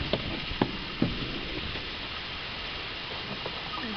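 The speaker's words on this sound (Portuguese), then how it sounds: "Tá chovendo." Steady rain hiss with scattered drips and a few soft taps, continuous and moderately loud, falling outside a building at Praia do Francês.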